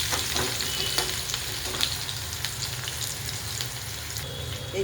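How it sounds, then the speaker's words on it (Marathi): Chopped onion sizzles and crackles steadily in hot oil, with frequent scraping strokes of a spatula stirring it around the pan; the frying hiss stays dense and even throughout, close up, with no voices. "आता कांदा टाकून घेऊया. एक जीव करून तेलामध्ये"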